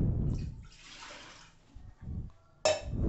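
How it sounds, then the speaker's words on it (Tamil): About a litre of water is poured into a pressure cooker while making agathi keerai soup: a soft splashing pour for about a second, then a few quiet knocks and a sharper clatter near the end. "அதில் 1 லிட்டர் அளவு தண்ணி சேர்த்துருக்கேன்."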